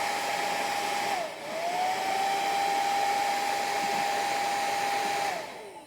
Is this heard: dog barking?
no